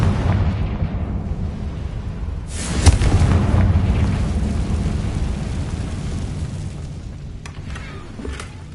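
A Confringo fire spell goes off in a Harry Potter video game, a loud booming blast about three seconds in that rises out of a continuous rumbling roar and slowly fades, with a few lighter pops near the end.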